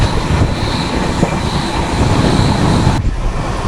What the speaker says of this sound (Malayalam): Thiruvananthapuram central Mangaluru central express ആണ് പോയത്.